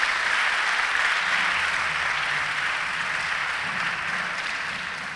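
A church congregation breaks into sustained applause that fills the room evenly before slowly tapering toward the end.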